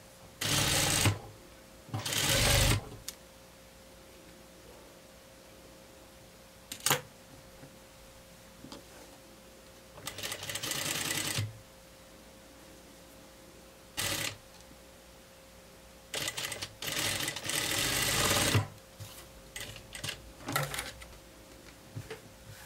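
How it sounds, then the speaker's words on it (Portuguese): A sewing machine topstitches a blouse in several short bursts of rapid mechanical whirring. The bursts are separated by quiet pauses with occasional clicks and ticks. "Costura e passa um pesponto."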